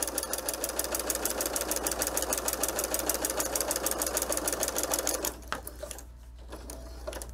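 A sewing machine stitches a decorative line across a quilt-as-you-go cover with a fast, even rhythmic clatter, close and loud, then stops abruptly, leaving a few faint clicks and handling sounds.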